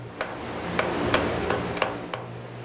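Steel bar hammered on an anvil while upsetting a knob at its end, a blacksmith's forge setting: six sharp ringing metallic strikes at an uneven, unhurried pace, close and clear over a steady low hum.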